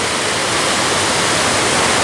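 Water pours down a three-tier waterfall in Dabanggre village, West Garo Hills, Meghalaya, making a loud, dense, unbroken roar with no voices.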